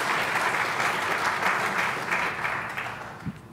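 Audience clapping at a KubeCon conference talk on container monitoring, a steady hall-wide patter of hands that gradually thins toward the end.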